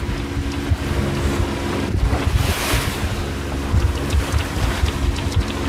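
Ocean waves slosh and break around a small single-handed trailer-sailer off Palm Island on the Barrier Reef, with loud gusting wind buffeting the microphone and the hull splashing through the chop throughout.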